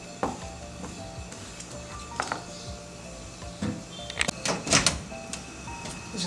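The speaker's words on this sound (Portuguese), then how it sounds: "Vamos colocar no forno." A chocolate cake pan slid into a heated home oven, with a metallic scrape of the rack and pan, a door-like thud and clatter, and a few sharp knocks near the end, close and moderately loud, no talk.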